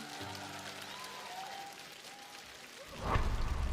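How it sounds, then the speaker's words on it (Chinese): A studio audience at a televised singing competition bursts into applause for two duet singers, the clapping swelling up loudly near the end after a quieter stretch. "所以我们再次把热心掌声送给二位"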